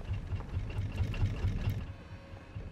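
A boat motor chugs steadily in the survival game Raft, a low, even engine drone that stays close and continuous with no pauses.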